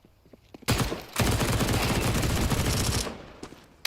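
An MP9 submachine gun fires a sustained rapid burst during a competitive esports match, loud and close, cutting in sharply and rattling steadily for a few seconds before stopping abruptly, with scattered quieter shots around it.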